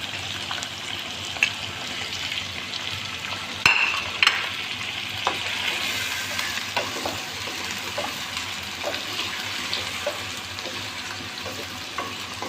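Whole spices such as cardamom, bay leaves and cinnamon fry with chicken for korma, giving a continuous moderate sizzle broken by occasional spoon scrapes and a couple of sharp metallic clinks.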